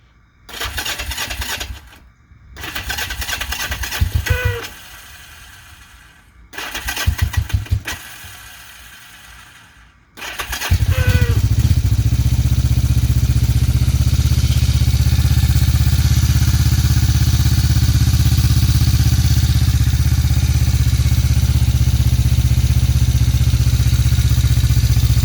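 A vintage 1981 Yamaha XS400 Special motorcycle cold starting on a cold spring day with the choke fully out: several short cranking bursts with pauses, then the engine fires and holds a loud, steady idle nearby.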